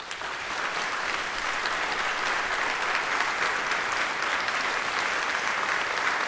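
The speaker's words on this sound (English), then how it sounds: "If you agree with the statement now, I want you to clap as loud as you can." A crowd at a live debate event on AI and art applauds steadily and fairly loudly, dense clapping sustained without a break throughout.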